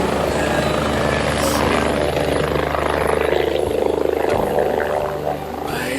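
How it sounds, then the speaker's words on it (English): A helicopter near the Calanques in the south of France, its loud continuous rotor throb and engine whine filling the scene close by, steady throughout with slight swells. "And now the chopper already landed. Now it's gonna take off soon"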